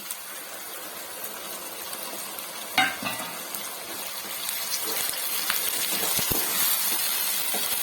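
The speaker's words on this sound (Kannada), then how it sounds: "ಇವಾಗ ಇದೊಂದು ಸ್ವಲ್ಪ ಫ್ರೈ ಆಗಲಿ ಚೆನ್ನಾಗಿ" Soy gobi manchurian frying in a pan, a steady crackling sizzle with occasional stirring scrapes and clinks, fairly close and moderately loud.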